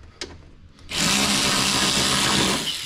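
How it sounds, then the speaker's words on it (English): A power tool, likely a drill or impact driver, runs steadily and loudly while tightening a 3/8 nut on the back side of a riding mower during electrical and engine repair, starting after a brief quiet moment. "I'm gonna put the nut on the back side and go ahead and tighten it down."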